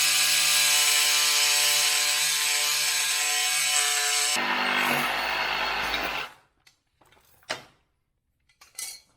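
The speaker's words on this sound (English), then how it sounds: "I've got just a metal cut sawzall blade on here" A reciprocating saw fitted with a metal-cutting blade cuts through a bolt on a cast iron toilet flange. Its loud, droning buzz carries on for about six seconds, then stops abruptly, followed by a few scattered knocks and clatters.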